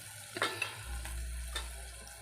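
Maggi noodles get stirred in a pan with salt added, giving a steady low sizzle of frying under soft scraping and clinking strokes of the spoon at a close distance.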